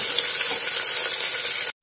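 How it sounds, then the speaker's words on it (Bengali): Garlic and chopped onion fry in a pan on the stove, a loud, close, continuous sizzle and hiss that cuts off abruptly near the end, with no talking. "রসুন আর পেঁয়াজটাকে প্রথমে ভালো করে একটু ভেজে নিতে হবে।"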